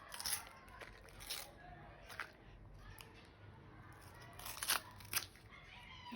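A toy packet is torn and cut open at home, producing faint crinkling plastic and snipping sounds in several short bursts, with soft voices in the background.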